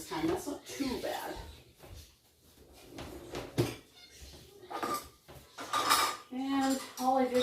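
Dishes and glasses clink and rattle as dirty tableware is gathered around a home during household chores, with close, intermittent clatters and a person talking over them.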